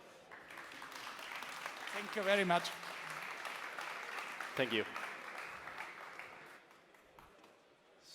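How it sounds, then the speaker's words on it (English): Audience applause on the main stage of EXPO2023, a steady wash of clapping lasting several seconds, with a voice briefly thanking the crowd over it before the applause fades toward the end. "please give Marcus a big applause"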